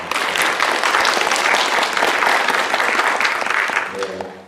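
A church congregation at Sunday worship applauds warmly in blessing of a couple, loud close clapping from many hands that sustains briefly, then fades as a voice begins speaking.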